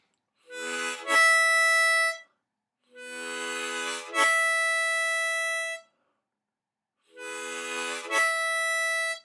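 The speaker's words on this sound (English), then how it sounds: "So if I do it with the 6th blow, it sounds like this." Three separate harmonica notes are each played with a tongue slap on the 6th blow hole, with a quick chordal burst leading into a bright held tone, close and clear, separated by short silences.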